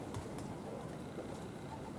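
Domestic pigeons take off from a rooftop loft during a post-training release, with soft fluttering wingbeats and faint cooing under steady wind and outdoor rumble, nearby and unbroken by talk.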